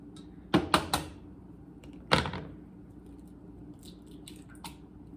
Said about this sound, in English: I have to like crack and stir.